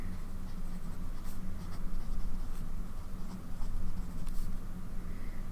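A TWSBI fountain pen with a medium nib scratches steadily across paper, a soft continuous scribbling texture heard up close with small strokes and pauses, no voices.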